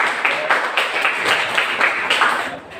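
Applause from a group after a poetry reading in a classroom setting, a steady wash of clapping with rhythmic swells, fairly loud and sustained before fading at the end.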